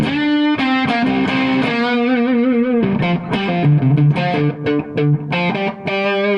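A heavily distorted electric guitar through a cranked Bluesbreaker/Beano-style amp plays chords and notes, thick and saturated with a bright, buzzing overdrive tone, loud and continuous.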